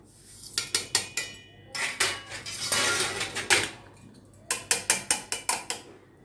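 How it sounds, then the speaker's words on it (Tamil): Chopped bottle gourd and other curry ingredients are tipped into a metal mixie jar, giving bursts of clattering, rattling knocks and scrapes in two close groups with a short pause between. "ஒரு மிக்ஸி ஜாரில் போட்டுக்கலாம்."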